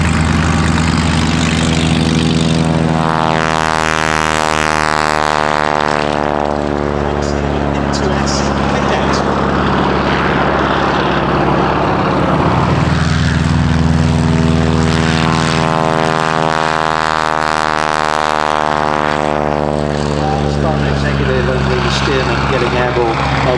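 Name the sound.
propeller aircraft flying at Shuttleworth air display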